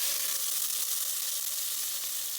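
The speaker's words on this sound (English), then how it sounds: "Now I'm going to be frying the shrimp." Shrimp fry in hot oil, producing a loud, even, hissing sizzle that holds steady and close with no talking.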